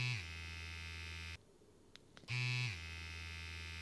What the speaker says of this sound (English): To start the machine, simply press the button once and the machine starts.